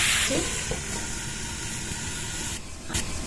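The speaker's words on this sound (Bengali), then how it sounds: "পরিমাণ মতো হলুদ দিয়ে দেবো পেঁপে আর আলুটা ভালো করে ভেজে নেব ঢাকা দিয়ে দিয়ে" Steady loud hiss of papaya and potato frying with turmeric in a lidded pan in a village kitchen, a continuous sizzle with a brief dip near the end.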